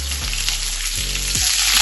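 Mustard seeds, shallots and curry leaves fry in hot oil, giving a steady, close hiss and sizzle with faint spattering for about two seconds.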